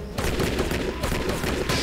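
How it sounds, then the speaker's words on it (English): Rapid bursts of gunfire in the video game Shadow Harvest: Phantom Ops crack in quick succession, dense and loud, with sharp repeated shots filling the whole stretch. "the gun sounds aren't that great"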